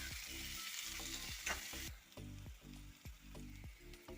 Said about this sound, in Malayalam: കൊച്ചുള്ളി ഇട്ട് കൊടുക്കാം. ഇത് നമുക്ക് വഴറ്റിയെടുക്കാം.